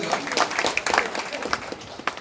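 Audience applause at a Marathi poetry event, a short burst of close, uneven hand clapping from a small crowd, with a voice speaking alongside.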